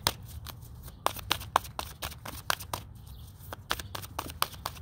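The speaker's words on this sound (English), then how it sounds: "The more I shuffle these things, the easier they get." A deck of oversized tarot cards being shuffled by hand during a reading, giving quick crisp riffling bursts that repeat steadily at close range over a soft background hum.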